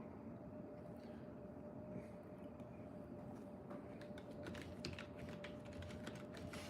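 Typing on a computer keyboard comes through as faint, quick, uneven clicking over a steady room hum, getting denser toward the end.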